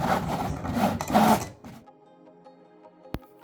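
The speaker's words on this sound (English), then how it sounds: "loaded my machine with my choice of vinyl, and the machine is ready to go" A Cricut cutting machine slices vinyl for a botanical wall-art design, a close, loud buzzing and rasping whir of the carriage for about a second and a half, then a quiet hum with one sharp click near the end.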